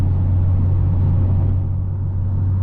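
A catless BMW M340i with a downpipe cruising at night, its engine and exhaust giving a loud, steady low droning rumble with little change in pitch.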